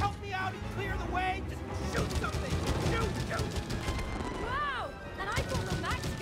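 A big gun fires steadily in the co-op video game It Takes Two, a dense stream of booming shots running throughout while excited voices talk over it.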